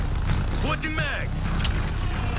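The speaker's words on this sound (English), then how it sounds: "Switching mags." A magazine swap in the Suicide Squad: Kill the Justice League video game: a quick run of mechanical clicks and ratcheting, partly masked by dense game noise and a voice.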